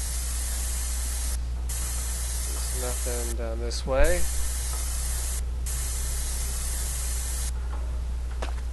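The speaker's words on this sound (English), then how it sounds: "Can I spray paint the ground?" Spray painting the ground in the indie game Erie: a steady, loud hissing spray runs through most of the clip, broken by a few short pauses, while someone talks briefly over it.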